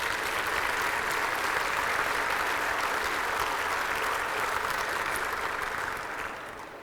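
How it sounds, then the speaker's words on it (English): A press-conference audience at the Port Columbus terminal modernization event gives a sustained, dense round of applause, steady and full throughout before easing slightly at the end, with no speech over it. "Please give him a round of applause."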